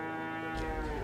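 Cows in a communal cattle pen in Semarang low loudly nearby, one long, deep, steady moo with no voices over it.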